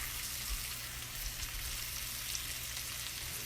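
Pork chops searing in a hot pan, a steady close hiss of sizzling fat that stays even from start to finish with no talking.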